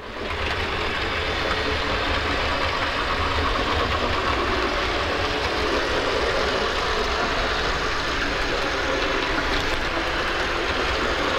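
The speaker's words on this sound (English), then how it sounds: "Quite quiet, not as quiet as modern day trains but certainly quieter than a conventional old Lima" Secondhand model train locomotive running steadily along its track, a continuous close mechanical whirr and rumble with no voices, fairly quiet for an older model rather than loud and harsh.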